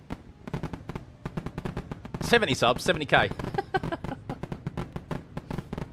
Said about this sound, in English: Nice little fireworks session.